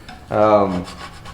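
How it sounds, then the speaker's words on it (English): A single rasping scrape of a metal putty knife across wood, lifting residue, lasting about half a second, close and fairly loud, with quiet room noise around it. "we're gonna try to scrape some of this stuff off just to make the sanding a little easier"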